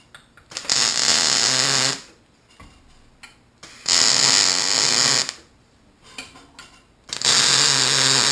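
Three loud bursts of MIG tack welding on handrail repair parts, each a steady crackling sizzle lasting about one to one and a half seconds, separated by quiet pauses with faint clicks and shuffling.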